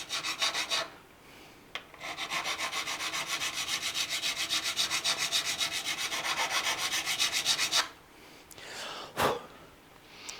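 Rhythmic rasping strokes of a file rubbing along guitar frets during re-crowning, a fast even back-and-forth scrape heard close for several seconds, then a pause and a few isolated scrapes.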